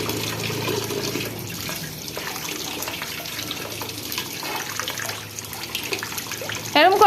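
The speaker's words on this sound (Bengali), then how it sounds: "কল বন্ধ করো" Water runs from a tap in a steady, fairly loud rushing stream for about seven seconds while voices talk over it.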